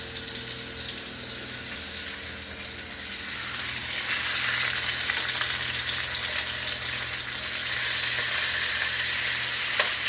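A New York strip steak fries in hot grease in a pan, giving a steady, close sizzle that grows louder and crackles partway through.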